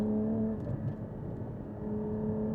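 Cabin drone of a Porsche 718 GT4 on Ohlins TTX Pro coilovers crossing bumps on a track, a steady low engine hum with soft muffled thumps from the suspension.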